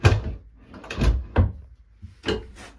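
A bathroom vanity drawer in a new Jayco 382FLRB RV slides open and shut several times, giving a few close, hollow thuds and rolling scrapes with gaps between them.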